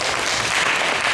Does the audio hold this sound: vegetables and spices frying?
no